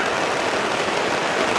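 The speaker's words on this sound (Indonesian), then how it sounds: "kembali dengan curah hujan. Wow, semakin deras." Heavy rain pours down steadily over an outdoor football match between Argun FC and Sedulur FC at the Kuwu Cup, a dense, even hiss filling the whole moment with no voices.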